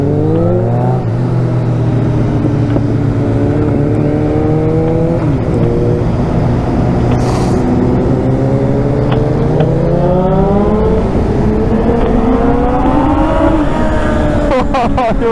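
A loud motorcycle engine accelerates hard on a lap of the Ring, rising in pitch through several shifts. Near the end, quick repeated climbs follow one another, with wind and faint voices in the background.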